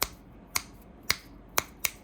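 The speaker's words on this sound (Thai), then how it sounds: "เสียงดีดนิ้วอะไรได้หมดครับ" Five crisp finger snaps ring out in a loose, uneven rhythm, sharp and close against a quiet background.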